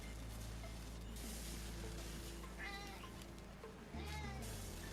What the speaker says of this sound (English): Meow, the kitty.